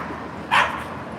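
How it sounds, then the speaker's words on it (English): A New York dog gives a single sharp bark at close range over quiet background hum, with no voices during the clip. "He's still barking."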